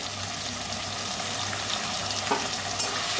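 Turmeric, coriander and cumin powders fry in a pan for a prawn and potato curry with banana flower, giving a steady close sizzle with faint stirring scrapes and no talk.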